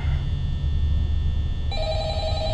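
An old-style telephone rings in the horror game Five Nights at Freddy's, a steady electronic tone over a low hum, with the ring growing brighter partway through.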